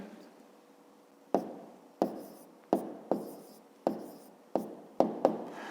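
A pen writes numbers in a notebook, giving a series of about eight sharp, close strokes spaced roughly half a second apart, each fading quickly, in a quiet room with no talking.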